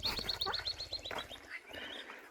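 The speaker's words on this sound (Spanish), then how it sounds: "Me asustó el pajarito y se gritó muy fuerte" A small bird near a park trail lets out a loud, rapid series of sharp chirps, close and startling, followed by a few softer notes and rustling.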